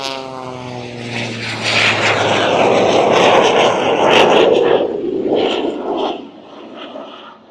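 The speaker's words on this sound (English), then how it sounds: "look at that big, beautiful red biplane diving in." A big red fabric-and-wood biplane with about 2,000 combined horsepower dives past at the Oshkosh air show, its propeller engine roar swelling loud and close, then fading as it pulls away.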